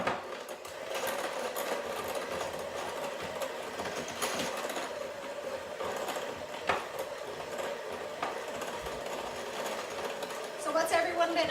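Keto cookie batter with cinnamon is mixed using a mechanical whir, most likely an electric mixer, running continuously and close, with a faint voice underneath at times.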